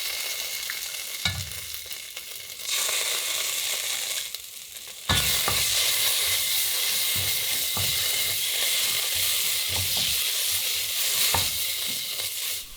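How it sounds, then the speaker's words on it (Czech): Tomato paste fries lightly in a pot, a quiet soft hiss at first that swells into a steady, louder close sizzle with small pops and occasional stirring knocks, no one speaking. "po minutě přidám protlak, který lehce zarestuji"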